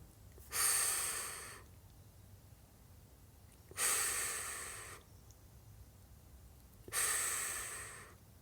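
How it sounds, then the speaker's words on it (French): A person exhales three times during a guided breathing exercise: long, breathy airflow bursts about three seconds apart, each swelling quickly and then fading, with quiet pauses between them. "J'expire."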